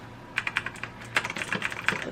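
Rapid, uneven clicking of keys on a Razer BlackWidow mechanical gaming keyboard, close and crisp, with bursts of keystrokes over a quiet room and no talking.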